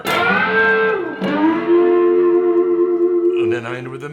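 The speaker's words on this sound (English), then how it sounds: "Bend up with the wang bar." Electric guitar notes bent upward with the whammy bar, loud sustained tones with effects and echo, swooping pitch, then a new chord near the end.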